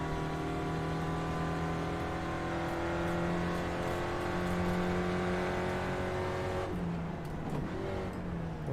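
A race car engine in the iRacing sim game revs at high, steady pitch under heavy throttle, a dense buzzing drone that holds for several seconds before an abrupt gear change drops and shifts the tone near the end.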